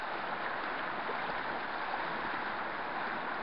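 Water of the River South Esk rushes steadily over solid stone riverbed, a dense continuous broadband wash with no breaks, moderately loud and close, with no voices.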